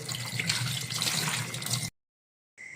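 Poultry meat is rinsed under a running tap, giving a steady close splashing rush of water that cuts off abruptly, then briefly resumes.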